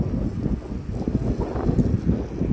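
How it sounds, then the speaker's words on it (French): Night wind gusts in Hendaye, buffeting the microphone with low, uneven rumbles that rise and fall throughout. "Il y a un peu de vent, mais c'est pas froid."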